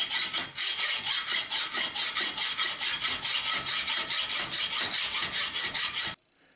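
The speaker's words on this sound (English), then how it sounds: "We're just going to trim these pins off with a hacksaw." Steady back-and-forth strokes of a hacksaw cutting through pins on a knife handle, loud and close, about two strokes per second for six seconds before stopping abruptly.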